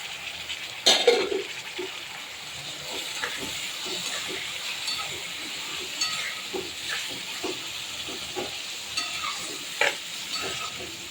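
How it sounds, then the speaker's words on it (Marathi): Chopped tomatoes go into a pan of reddened fried onions for tomato chutney, giving a close, steady sizzle broken by repeated scraping stirs with no voices. "कांदा लाल झाला आहे आता आपण हे चिरून ठेवलेला टोमॅटो याच्यात ॲड करणार"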